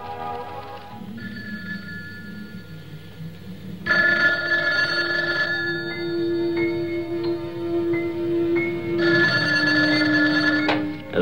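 Telephone ringing at a house: a loud, continuous electronic trill repeats in long bursts with brief pauses, over a steady low background hum and faint rain-like hiss.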